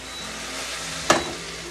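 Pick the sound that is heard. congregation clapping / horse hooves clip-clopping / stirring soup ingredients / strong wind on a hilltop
stirring soup ingredients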